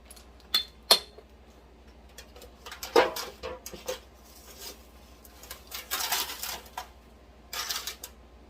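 A metal roasting pan is picked up and set down in a kitchen, giving a scatter of sharp clinks, knocks and rattles that come in irregular bursts.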